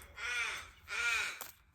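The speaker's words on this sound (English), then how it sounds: "It's the only bird I can hear." Two loud, harsh crow caws ring out outdoors in quick succession, each about half a second long, followed by a brief rustling flutter, with no talking over them.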